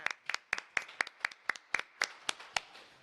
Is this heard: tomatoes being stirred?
no